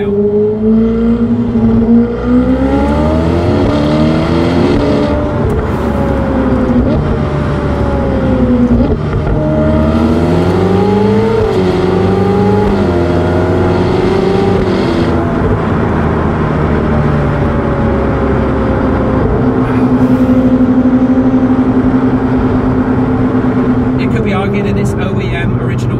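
Ferrari 488 Pista fitted with an upgraded race exhaust, driven at low speed in second gear: a steady, boomy engine drone that rises and falls in pitch with throttle changes, heard from inside the car under continuous talking.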